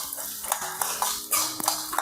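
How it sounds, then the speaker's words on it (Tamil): Spices and a little pepper are sautéed in a pan while a metal spoon scrapes and clinks against it in quick, close strokes over a soft background sizzle. "இது கொஞ்சம் 2 நிமிஷம் வதக்கிக்கலாம்."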